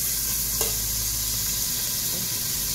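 Pork sizzles and fries in a small amount of oil in a pan, a steady close crackling hiss with a brief stir partway through.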